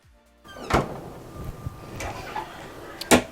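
Drawers in a Holland America Koningsdam verandah cabin are pulled open and pushed shut, several sliding thunks and knocks spread across the moment, close and fairly loud with no talking.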